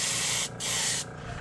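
Airbrush spraying paint onto a crusty deep diver shad fishing lure: two close, steady bursts of hissy spray, the first short, the second longer, separated by a brief pause, with quiet room tone after.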